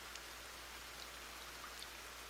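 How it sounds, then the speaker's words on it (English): Continuous rainfall in a video game, an even broadband hiss with scattered faint droplet ticks, steady and moderately quiet throughout with no voices. "Oh, it's raining."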